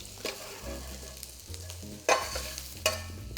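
Flour cooking in a pan as the base for onion gravy for Salisbury steak, a low sizzle broken by several brisk spoon scrapes and stirring strokes, close and with no speech.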